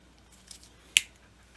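A single crisp snip cuts a rubber drive belt for an Emerson XLC-450 cassette deck, a short sharp click-like cut preceded by faint handling rustle in a quiet room.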